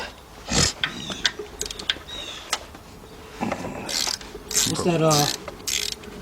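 Ratchet clicking in short bursts while loosening water pump bolts on a 2002 Dodge Stratus 2.4 during a timing belt job, close and loud with pauses between strokes, no talking.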